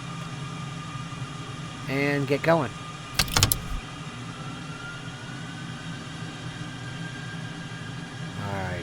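F-14 Tomcat engines spinning up in Microsoft Flight Simulator 2020, a low steady hum with a rising whine building underneath, a sharp mechanical burst midway and someone talking over parts of it.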